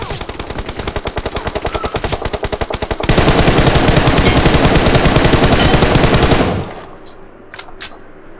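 Loud, rapid machine gun fire in the battle royale game PUBG Mobile, one long unbroken burst that grows denser and harsher midway before cutting off, leaving a few faint scattered sounds.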